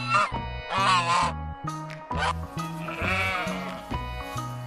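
A sheep bleats several times in close, wavering cries, with short pauses between calls and a low rumbling background.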